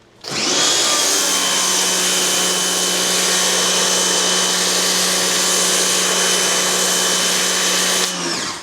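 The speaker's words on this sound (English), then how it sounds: "For everybody who says that new Ryobi doesn't foam enough" A Ryobi pressure washer runs with a steady, loud motor whine while spraying foam, starting and cutting off abruptly, with no talk.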